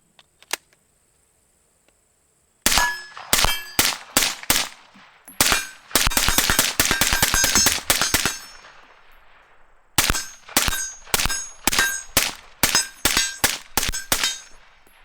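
An AR-15 rifle with a PMag D60 drum magazine fires outdoors in sharp, loud bursts. A long rapid string comes in the middle, then a run of evenly spaced shots near the end, with short silences between the groups.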